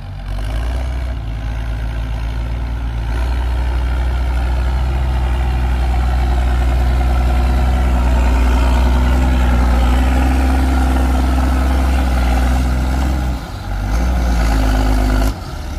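A New Holland TS115 tractor pushing soil with a full blade, its heavy diesel engine droning steadily and loudly throughout, with a brief dip in power near the end before it roars on.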